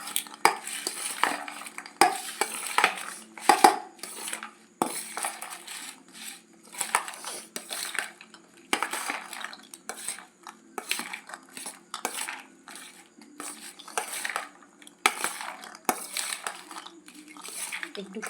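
A spoon stirs and scrapes jhatpati in a pan, producing irregular metallic clinks and scraping strokes in a steady rhythm, close and fairly quiet.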